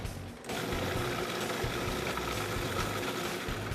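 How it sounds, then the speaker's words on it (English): A food processor with an S-blade and a 1 horsepower motor starts up and runs steadily, a buzzing mechanical drone with a rattling, geared texture, loud and continuous with no talk. "You can see in the machine move how much torque it has. It has a 1 horsepower motor."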